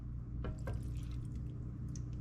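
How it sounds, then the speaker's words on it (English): Water poured in a small splash into a simmering pot in a home kitchen, a brief faint trickle and drip over a steady low background hum, without talk. "I'm going to get just a pinch more water because I want this to simmer for a few minutes."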